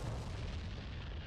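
Bombs exploding on the ground in the DCS C-101 flight simulator game make a dense, continuous low rumble of blasts, heavy and sustained with no clear gaps, with no voices.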